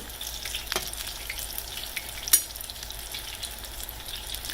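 Apple fritters from an old-fashioned 1927 recipe fry in hot fat with a soft, continuous sizzle and bubbling, plus a faint clink or two of a utensil against the pan.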